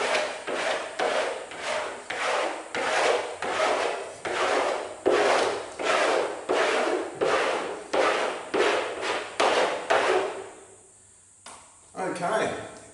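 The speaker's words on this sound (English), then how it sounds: "I'll get the wax comb again and give it a final comb" A wax comb is scraped across surfboard wax in a steady run of about twenty rhythmic, close, loud rasping strokes, then it stops briefly before one more stroke.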